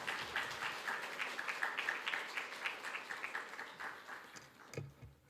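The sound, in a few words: congregation applauding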